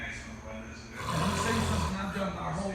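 A man snores in one long, rough inhaled rasp, close and steady, with faint background noise before and after.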